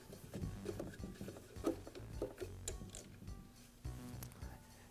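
Small plastic clicks, creaks and scrapes come from removing the motor brush cap on a DeWALT planer during a repair. The handling noises sit close and fairly quiet, irregular across the stretch, and there is no talk.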